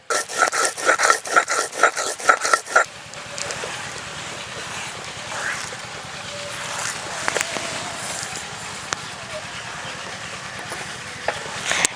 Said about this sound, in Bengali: ধনে জিরে একসঙ্গে বেটে নিচ্ছি